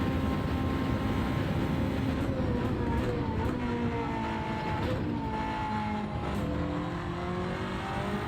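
Gr1 race car in Gran Turismo 7 at Le Mans, its engine note falling in harmonic sweeps as it brakes, with gear downshifts and a steady loud drone throughout, no voices.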